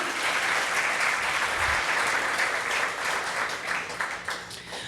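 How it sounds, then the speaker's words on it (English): Dense, sustained applause from a crowd at a design competition awards event, a steady loud wash of many hands clapping throughout. "applause, please, more of that"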